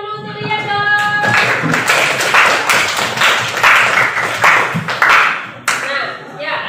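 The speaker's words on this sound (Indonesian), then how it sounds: "beri tepuk tangan dulu untuk dia dong" Classroom students clapping hands for a classmate, a short burst of brisk, fairly loud clapping that follows brief music and ends with a lone clap and a voice.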